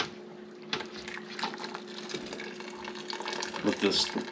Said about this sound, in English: Let all the liquid drain out of it.